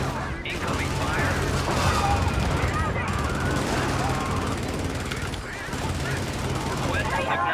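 Video game gunfire crackles in dense, rapid bursts with brief lulls, loud and sustained, while a player's voice talks over the battle.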